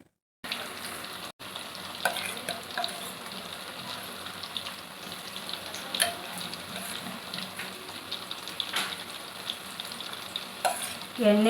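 Kebab pieces deep frying in hot oil, a steady close sizzle and crackle running throughout with occasional stirring or scraping noises, no voices.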